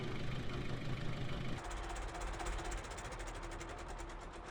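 Ford tractor in Farming Simulator 19 idling with a knocking diesel rhythm, then shutting off partway through, the engine dropping to a lower fading rattle; quiet and close, no talk.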